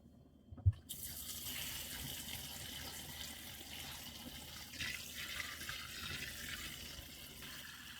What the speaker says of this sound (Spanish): Ahora lo vamos a llevar el espagueti al chorro del agua fría para que esta se quede firme y no se nos vaya a batir.